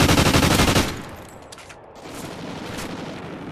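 Rapid automatic gunfire in a video game: a loud, close, dense burst of shots for about a second, then it drops to quieter background game noise.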